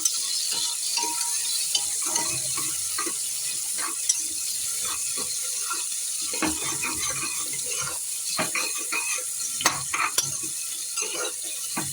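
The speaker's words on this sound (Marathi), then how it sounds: "आता कांदा परतून झालेला आहे" Chopped onion sautéing in a pot for dal khichdi, a continuous close sizzle with frequent spoon scrapes and clinks as it is stirred throughout.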